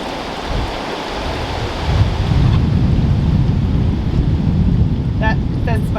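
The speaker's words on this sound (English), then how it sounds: "It is pouring down rain right now." Heavy rain pouring down on a farm in a dense, steady roar, close and loud, with a low rumbling undertone throughout.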